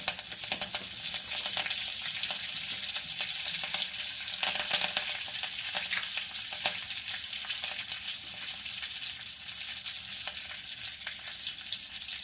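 Crushed garlic and curry leaves sizzle in hot oil, a continuous crackling fry with sharp pops and faint stirring scrapes, close by and with no speech.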